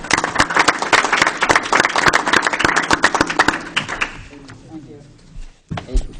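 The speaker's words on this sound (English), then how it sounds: "I think she deserves a round of applause for it." A small group at a board meeting claps steadily for about four seconds, dense and fairly close, before the applause fades out into quiet room sound and a few stray taps.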